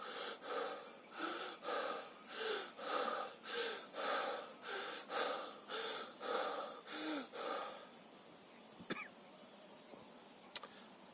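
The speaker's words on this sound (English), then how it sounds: "you breathe into the top part of your lungs like this" Rebirthing breathwork with rapid breaths drawn into the top of the lungs: about a dozen rhythmic, airy inhale-exhale cycles, close and fairly loud, stopping abruptly and followed by quiet with a couple of faint clicks.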